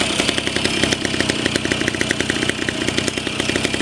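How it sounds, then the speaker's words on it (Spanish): A cold Derbi Variant moped with a freshly welded exhaust runs with a rapid, even, rattly putter, steady and fairly close, with no talking. "Es que el sonido que hace el tubo de escape"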